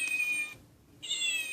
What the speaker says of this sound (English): I named him Romeo because, hey, he meows for a dog